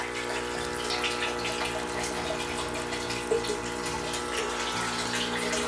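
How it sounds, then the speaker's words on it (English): Water runs steadily down through an indoor potted pepper plant and pools below, giving a continuous trickling, faucet-like wash with no break. "So the water's running down."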